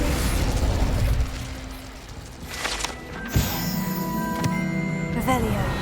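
A fire spell, Incendio, cast in the Hogwarts Legacy video game gives a sharp fiery burst and boom over rumbling game effects, followed by ringing magical tones.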